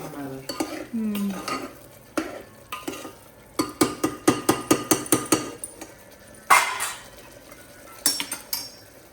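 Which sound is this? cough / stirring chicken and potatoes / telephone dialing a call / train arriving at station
stirring chicken and potatoes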